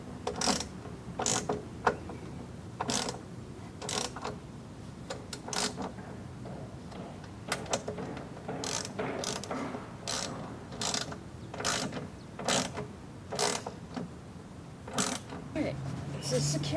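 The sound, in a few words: torque wrench ratcheting while tightening step rail bolts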